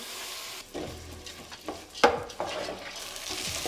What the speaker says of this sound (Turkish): Biraz da mercimeğini kavuralım.